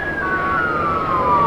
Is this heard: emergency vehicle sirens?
yes